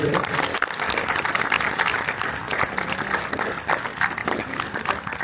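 Applause from a youth panchayat audience at a district-level event in Sirsa, sustained and fairly loud for the whole stretch, with some voices mixed into the clapping.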